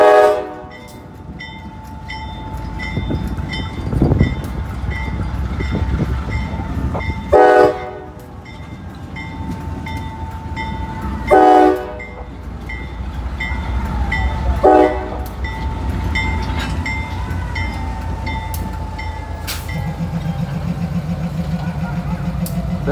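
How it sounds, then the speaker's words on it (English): Locomotives switching on a railroad wye in Sardinia, Ohio, with repeated loud blasts of a multi-tone train horn over a steady diesel engine rumble, close by and sounding several times across the scene. "You got all kinds of railroad action going on."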